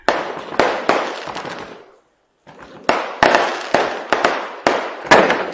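Firecrackers go off in a rapid string of sharp, loud bangs at a political rally, each crack trailing off into a short echo, with a brief pause midway before the bursts resume.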